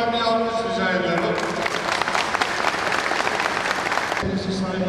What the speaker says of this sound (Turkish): kendisine buradan bir alkış rica ediyorum